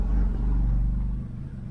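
Engine of a turbocharged Toyota Corolla being shifted into gear, a loud, steady low rumble close by that eases slightly toward the end.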